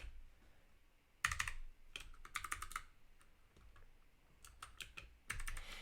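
Bursts of clattering keystrokes on a new computer keyboard, quick uneven clusters of taps separated by short pauses, close and fairly quiet with no talking.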